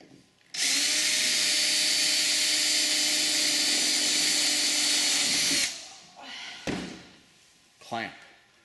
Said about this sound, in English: then we drill through our hole that we previously made